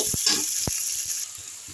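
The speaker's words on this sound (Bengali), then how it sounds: "রাঁধুনির ফ্লেভারটা বেরিয়ে গেছে, এর মধ্যে আমি পেঁয়াজটা দিলাম।" Onions hit hot oil in a pan already fragrant with radhuni spice, for a pui shak and fish-head dish: a soft, steady sizzle broken by a few distinct clinks and scrapes of stirring.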